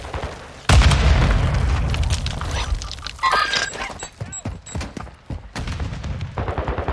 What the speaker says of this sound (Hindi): एक और गोद में ग्रेनेड फेंक देते हैं